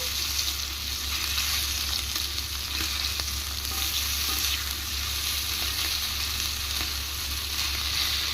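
Fish fries on a tawa, beach style as in Nellore restaurants, giving a loud, continuous, even sizzle close by with no talking.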